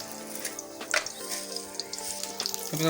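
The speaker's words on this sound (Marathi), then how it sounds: "असा फ्राय आणि कढीपत्ता अंगावर उडतोय" Mustard seeds, cumin and fresh curry leaves splutter and crackle in hot oil for a raw cashew curry, a steady close sizzle broken by sharp pops and spits.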